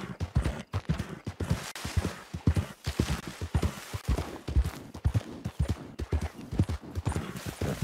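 A horse galloping in Red Dead Online, its hooves pounding in a fast, steady, continuous rhythm, close and fairly loud throughout with no talking.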